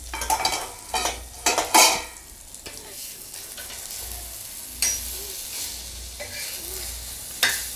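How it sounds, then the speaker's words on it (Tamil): Drumstick and egg roast is stirred and turned in a pan, with several scraping, clattering strokes of a spatula over a constant sizzle, close and fairly loud. "எல்லாத்தையுமே இந்த மாதிரி பிரட்டி போட்டுடலாம்."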